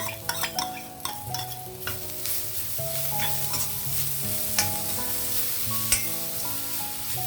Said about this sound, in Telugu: ఇదిగో పుదీనా వేసేస్తున్నాను